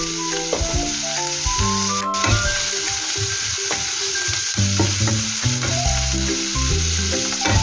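Ingredients for Filipino ginisang sotanghon sautéing in a pan, a loud continuous sizzle with repeated scraping stir strokes and clinks of a utensil against the pan, no voices.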